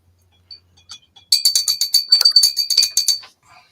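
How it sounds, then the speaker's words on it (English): A small bell rings in a rapid, bright, trilling burst of repeated strikes lasting about two seconds, preceded by a few faint taps. "Oh, that ruddy bell."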